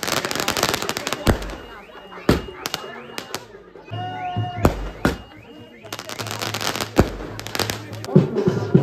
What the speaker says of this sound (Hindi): हो चुका है यहां का भी स्वागत पटाखे जला के।